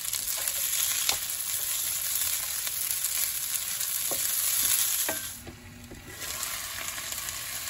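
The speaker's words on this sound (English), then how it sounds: "Hungry Jack hash brown potatoes with diced onion." Hungry Jack hash brown potatoes with diced onion sizzle steadily in a pan, with a continuous close frying hiss broken by a few clicks of stirring and a brief dip in loudness near the end.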